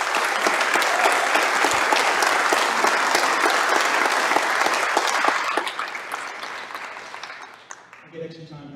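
Loud applause from an audience at a municipal election candidates' forum, thick and continuous for about five seconds before thinning out and fading, leaving a few scattered claps and a voice starting to speak.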